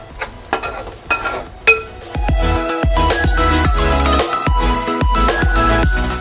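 Onions cooking in a pan for a sora chepa (shark fish) curry, with several sharp clanks of a spoon against the pan followed by a loud, steady sizzle and repeated stirring scrapes, close and without talking.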